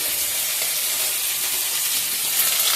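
Bay leaves, dried red chillies and cloves sizzle in hot oil with sugar for a Bengali katla kalia, a steady, close, loud frying hiss that runs throughout with no voices.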